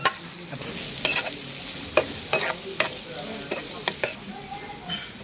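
Shallots sizzle in hot oil with green chillies, ginger garlic paste and curry leaves, a steady close frying hiss broken by repeated sharp scrapes and clacks of stirring.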